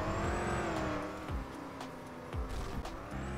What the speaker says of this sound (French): Ça a l'air d'être une voiture.